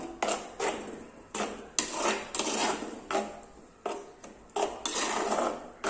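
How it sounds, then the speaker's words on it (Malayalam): A spoon stirs whisked curd into banana pachadi, producing repeated rhythmic scraping and rubbing strokes against the vessel, close and fairly quiet with brief pauses between strokes. "ഇനി നമുക്ക് നന്നായിട്ട് ഇതൊന്ന് ഇളക്കിയെടുക്കാം"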